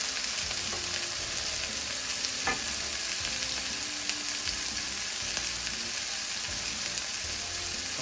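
A beef burger patty frying in hot oil in a pan gives a steady, loud crackling sizzle throughout, with occasional sharper pops and scraping stirs.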